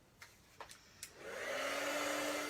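A heat gun melting embossing powder for card making. A few light taps come first, then the blower whirs up into a steady, loud airy hiss with a constant hum, close and alone.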